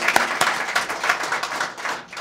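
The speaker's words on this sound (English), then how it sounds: "How about a round of applause for George and his leadership?" An audience at a Clemson anniversary gathering bursts into applause, a dense run of close, crisp claps that thins out toward the end.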